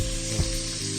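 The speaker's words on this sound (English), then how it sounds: "we are going to allow this to saute to release that lovely garlic aroma and flavor" Garlic sautéing in a hot pan gives a steady, close sizzle with a brief stir or scrape partway through, no voices.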